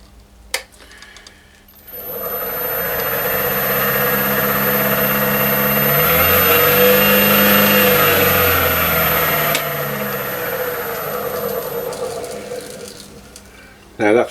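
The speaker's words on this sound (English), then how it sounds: "I'll just turn the lathe on now and see how true or not true it's actually running." A wood lathe is switched on with a segmented turning blank held in the chuck; the motor hums up to speed after a click, spins steadily with a droning whir, then winds back down.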